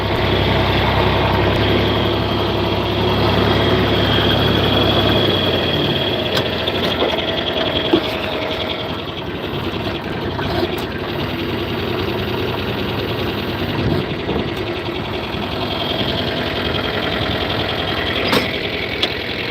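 A tractor engine runs steadily on a farm, a continuous low, throbbing drone with a rough mechanical rattle that holds at an even level for the whole stretch, with no talk over it.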